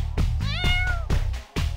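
A cat meows once, a clear drawn-out mew up close, amid rhythmic thumping and background noise.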